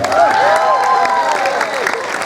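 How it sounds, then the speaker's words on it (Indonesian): Audience clapping for a village head during a humorous Sundanese religious sermon, a short burst of applause heard under a voice talking over it. "Tepuk tangan untuk Pak Lurah"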